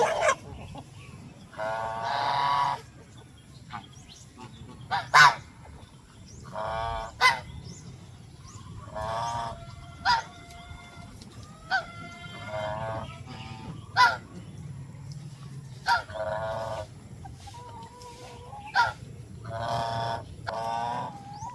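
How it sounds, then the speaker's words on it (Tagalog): Geese, including males, honk repeatedly in short, loud bursts over a low rumble on a goat farm, several calls overlapping at uneven intervals. "yung lalaki na gansa"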